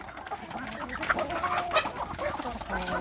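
Free-range village chickens and a rooster cluck and chatter continuously at close range outdoors, the busy calls overlapping with no talking.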